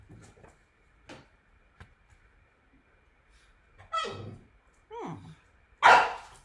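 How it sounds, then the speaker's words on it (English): A dog indoors lets out three loud, sharp barks spaced about a second apart near the end, after a few faint thumps and knocks in an otherwise quiet room. "Now he's barking at the machine he knocked over."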